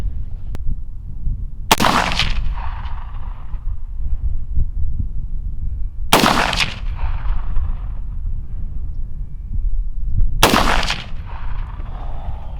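Three loud, sharp rifle shots at roughly four-second intervals during a sight-in at 100 yards outdoors, each cracking close by and trailing off in a brief echo over a low steady background rumble.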